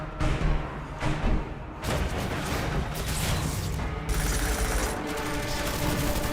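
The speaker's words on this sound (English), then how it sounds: "Why are there still people driving on this road with all this gunfire?" Rapid bursts of video-game gunfire crackle in near-continuous volleys, dense and loud, with mechanical clatter mixed in.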